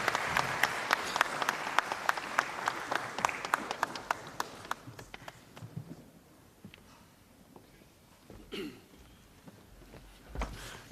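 An audience at a provincial government gathering applauds the Premier, dense clapping for about five seconds that thins into scattered claps, shuffling and a few distant bumps as the room settles.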